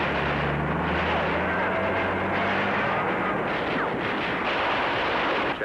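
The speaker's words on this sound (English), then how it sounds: "Another Marine goes out after him in a Jeep under heavy machine gun fire" Heavy machine gun fire in a WWII newsreel of a Marine attack on an airfield, a dense continuous roar of gunfire and blasts over a low rumble, loud and unbroken.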